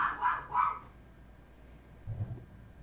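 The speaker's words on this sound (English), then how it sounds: "What's she barking at?" A pet dog at home gives a quick run of three sharp barks, fairly close, then falls quiet, followed by a faint low rumble near the end.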